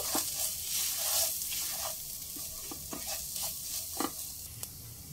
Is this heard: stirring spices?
yes